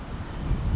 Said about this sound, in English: it's windy. Did I mention that?